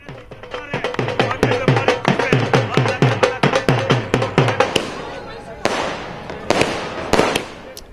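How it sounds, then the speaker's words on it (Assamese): Firecrackers burst outside the All India Congress Committee office in New Delhi during a party celebration: a fast, loud string of sharp cracks, then scattered heavier bangs over crowd noise. "নতুন দিল্লীস্থ নিখিল ভাৰত কংগ্ৰেছ কমিটিৰ কাৰ্যালয়ত এইদৰে নৃত্য ফটকা ফুটিছে"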